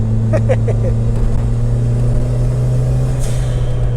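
A turbocharged Fiat Uno Mille engine idles with a steady rumble while its turbo blow-off valve lets out quick, chirping puffs of air early on and another short hiss later.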